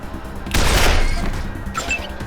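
A burst of gunfire in the post-apocalyptic game Wasteland 2, a dense loud volley starting sharply then decaying into a rumbling tail, followed by faint small clicks.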